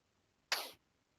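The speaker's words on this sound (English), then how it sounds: "I think I'm going to sneeze." A single short, sharp sneeze bursts out at close range during a tabletop role-playing session, otherwise quiet around it.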